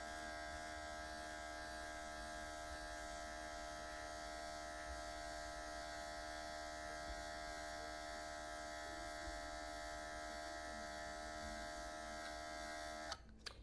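A Casubaris cordless portable airbrush compressor runs with a steady, close electric buzz and hum that holds constant throughout, then cuts off with a brief click at the end.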